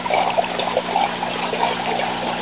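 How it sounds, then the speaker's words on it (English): Water trickles and splashes continuously through vertical aquaponics garden tubes, a steady bubbling flow with a faint hum beneath it. "as the water obviously cascades from tube to tube"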